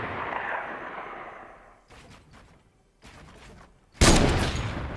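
Video game gunfire erupts in scattered bursts and rattles with brief gaps, ending in a loud, sharp volley that fades out.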